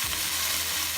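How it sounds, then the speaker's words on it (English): Vegetables for red sauce pasta sauté in a pan, a steady close sizzle filling the brief moment with no voices. "Mixing everything well for about 2 to 3 minutes, sauteing them well."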